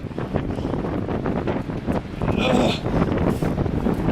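Strong coastal wind on the tip of the Irish coast roars and buffets against the microphone in a loud, continuous rush with gusty surges.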